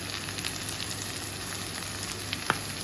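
Vegetables with frozen garlic frying in a pan, a steady, even sizzle throughout with a single soft clink near the end.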